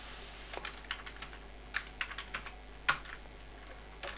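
Someone types on a computer keyboard in a quiet room, producing a run of irregular, close key clicks with short pauses and a sharper tap near the end.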